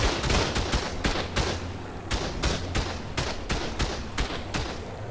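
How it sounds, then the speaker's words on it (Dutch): Rapid cannon fire in ARK Survival Ascended on a Scorched Earth map, a dense run of loud, sharp blasts about every quarter to half second over a constant rumbling game background. "Ja, dan komt hij weer aan met de kanon."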